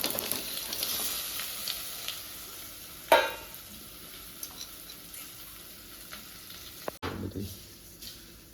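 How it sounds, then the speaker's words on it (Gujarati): Patra tempering sizzles and fries in hot oil, with a steady crackling hiss and occasional clinks of stirring, including a sharp louder hit partway through, heard up close with no talking. "તો મસ્ત પાત્રાનો વઘાર લાગવાનું ચાલુ છે હવે."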